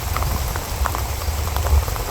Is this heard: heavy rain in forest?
yes